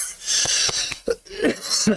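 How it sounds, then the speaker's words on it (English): A person coughs several times in short, throaty bursts, close and loud, between stretches of talking. "this goddamn cough will not go away"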